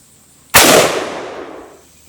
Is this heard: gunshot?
yes